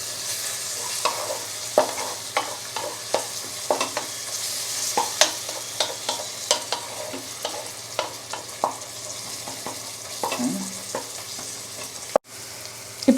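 Ginger garlic paste and onions fry in a pan for a chicken curry, a steady hiss of sizzling oil broken by frequent rhythmic spatula scrapes and taps, close and fairly loud with no talking.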